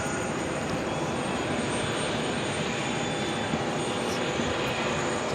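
A Boeing 777-300ER jet at New York's JFK Airport rumbles in a steady, fairly distant engine roar, even and unbroken throughout, with no talk over it.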